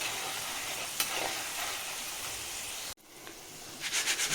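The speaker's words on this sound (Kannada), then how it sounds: "ಸೊ ಇವಾಗ ಫ್ರೈ ಆಗ್ತಾ ಇದೆ." Avarebele mixture snack frying in hot oil, a loud steady sizzle and bubbling hiss, briefly interrupted, then resuming with stirring sounds toward the end.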